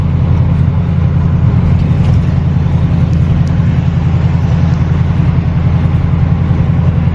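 A car with an aftermarket exhaust driven steadily, a loud continuous low drone with constant road rumble throughout and no clear revving changes.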